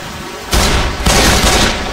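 Left 4 Dead 2 gunfire: two sudden loud bursts of dense, rapid automatic fire, each starting abruptly after a quieter start and continuing as a broad roaring crackle.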